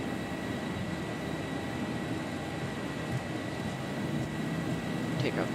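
Boeing 737-800 engines spooling at takeoff thrust in a flight simulator, producing a steady, even broadband roar that holds for the whole stretch with a faint voice underneath.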